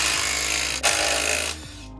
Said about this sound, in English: we're just gonna use the impact wrench here